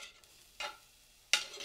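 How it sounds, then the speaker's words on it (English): Tempeh being stirred in a hot frying pan, with two short bursts of scraping and sizzling separated by quiet gaps. "there's a pretty good sizzle going on."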